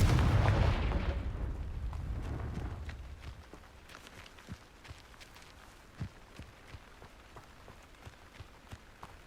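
Casting the Confringo spell in Hogwarts Legacy sets off a fiery blast with a close, loud, rumbling burst. It dies away over a few seconds into faint, scattered crackles and patters of debris.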